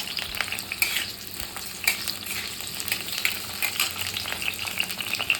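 Onions frying in hot oil in a pan while being stirred, a steady crackling sizzle with scraping stir sounds, close and continuous, no voices.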